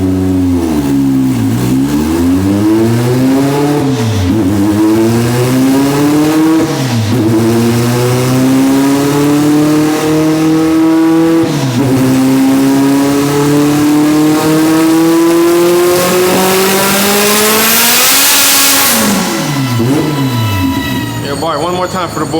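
An all-wheel-drive Honda Civic EG hatchback with a B18C1 engine and lowered tire pressure revs hard, its engine note rising and dropping in repeated pulls as the tires spin, with a rising hiss near the end and voices talking.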